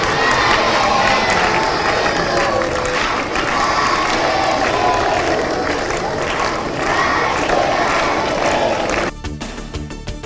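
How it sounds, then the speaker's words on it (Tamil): Government school students rise and clap with cheers and shouts for the Chief Minister's birthday, a loud, sustained crowd roar of clapping and young voices that cuts off abruptly near the end. "அரசு பள்ளி மாணவ மாணவிகள் எழுந்து நின்று கைத்தட்டி தங்களது வாழ்த்துக்களை தெரிவித்தனர்"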